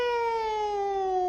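A voice imitates a siren: one sustained, rich wailing tone that sinks slowly in pitch, steady and fairly loud with no other sounds.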